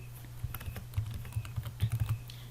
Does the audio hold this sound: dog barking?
no